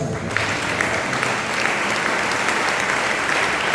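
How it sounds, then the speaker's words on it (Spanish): A church congregation claps together during a sermon, a full, even wash of hands that starts abruptly and carries on steadily without a break. "¿Cuántos dan un aplauso?"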